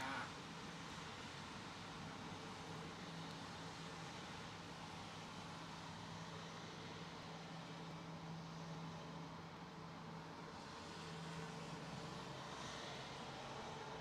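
An airliner lands at London Heathrow with its thrust reversers deployed but held at idle, producing a steady, faint, distant jet engine rumble and hiss that continues without a break.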